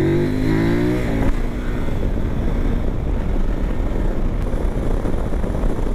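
A KOVE 800 Adventure motorcycle on the move: a rising engine note at first, then a steady loud roar of engine and rushing wind buffeting close to the rider, with no talk.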